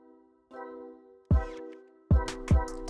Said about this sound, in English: put that brad nailer to work right on the mark